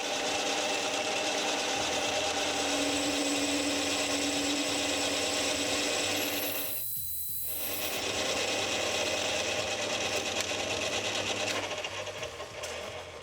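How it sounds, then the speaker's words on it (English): A metal lathe drills a clearance hole and parts off a small metal piece: continuous whirring machine noise with grinding, rasping metal contact, briefly dropping then resuming, steady and close throughout. "Then I can drill a clearance hole for the bolt to peek through and get this little guy parted off."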